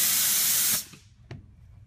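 Air blasts through the check valves of an aircraft strut pump as a loud, close, steady hiss that stops abruptly, followed by a brief faint clunk.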